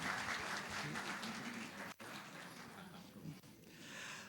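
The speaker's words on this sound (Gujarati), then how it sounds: "ખૂબ તાળીઓથી સ્વાગત કરીએ આદરણીય જોરાવરસિંહજીનું." An audience at a Japan festival in Ahmedabad claps warmly to welcome an honoured guest: a full, sustained wash of applause with a brief dip midway, continuing steadily to the end.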